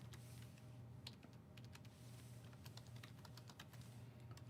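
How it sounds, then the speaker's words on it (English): Steady clicking of computer keyboard keys, typed continuously and close by over a constant low hum, with no talking. "Wow, I'm really having a hard time typing."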